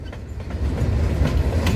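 Graffiti-covered freight train cars roll steadily past up close, a continuous low rumble with rhythmic clickety-clack of wheels over rail joints, alone with no talk.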